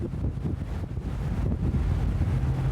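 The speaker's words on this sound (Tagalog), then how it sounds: "Malakas yung hangin, tapos malakas yung alon" Strong wind buffets the microphone on a ship at sea in rough waves, a steady loud roar and rumble with gusty low-end bursts throughout, no voices.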